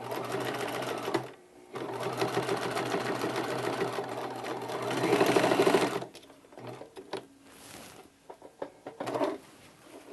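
A sewing machine stitches down the tucked-in ends of a drawstring backpack. It runs close up in several rattling bursts, separated by brief pauses.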